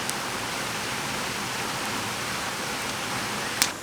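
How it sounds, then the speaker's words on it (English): A loud waterfall beside a cave in a gorge, a dense unbroken roar that fills the scene evenly from start to finish. "I hope you guys can hear me over the waterfall because it's pretty damn loud."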